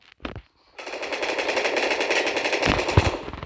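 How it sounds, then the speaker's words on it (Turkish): Automatic gunfire in the video game PUBG: a short burst, a pause, then a sustained rapid volley of shots, loud and near. "Aha biri sıkıyor biri sıkıyor"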